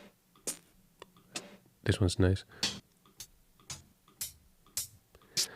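Vinyl-sampled hi-hats tick and click in a loose series of short bright hits, with someone talking briefly over them midway, fairly quiet and close.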